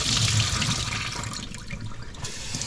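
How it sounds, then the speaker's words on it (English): Water drains and splashes in a kitchen sink as salted soaking water is poured off eggplant, a gushing rush that tapers into lighter trickling. "so we'll just drain this off"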